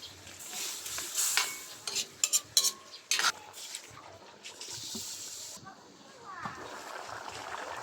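Carrots and potatoes being stirred into beef rendang in a pan, with clinks and scrapes of a utensil against metal over a soft sizzle, while a voice talks throughout.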